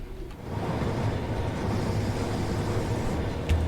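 Steady rumbling rolling noise of a rail head treatment train moving through a tunnel in a Southeastern High Speed train simulator game, continuous and even with a brief bump near the end.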